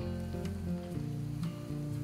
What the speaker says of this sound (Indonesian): Sekarang kita goreng sampai warna yang kita inginkan ya.